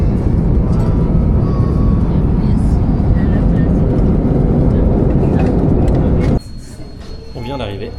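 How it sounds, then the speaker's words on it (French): Steady loud cabin roar of an airliner in flight on a long-haul route toward Bahrain, a continuous broadband engine and air noise that drops abruptly near the end to a quieter hum with a faint tone. "Je suis dans un avion, madame."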